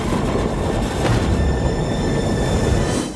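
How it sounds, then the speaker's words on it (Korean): A train carrying fleeing passengers toward China in a Korean action film scene sends a steady, loud rumble of rolling wheels and carriage noise throughout, with no voices over it. "중국행 기차에 올랐습니다."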